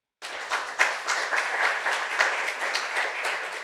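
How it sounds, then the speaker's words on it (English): A conference audience breaks into applause, dense clapping starting abruptly and holding steady and fairly loud to the end. "So I think we all deserve a round of applause for being here today, okay?"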